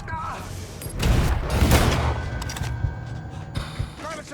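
Gunfire in the video game Mafia 3: a dense burst of shots and thuds in the middle, with scattered softer mechanical clicks around it and someone shouting over the action.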